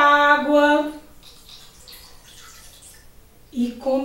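Water poured into a cooking pot makes a soft, faint splashing wash lasting a couple of seconds, set between stretches of storytelling speech.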